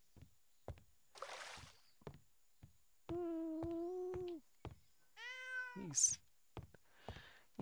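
Cat meowing in the video game Traveller's Rest: several distinct, fairly loud harmonic meows of varying pitch, one rising into a short squeal, over light tapping footstep-like sounds, with a voice talking.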